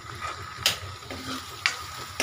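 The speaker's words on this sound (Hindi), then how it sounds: "घी मैंने रख दिया कढ़ाई पे गर्म होने के लिए।" Ghee heating in a kadhai gives a soft, steady sizzle, broken by a couple of sharp stirring scrapes of a utensil against the pan, quiet and close.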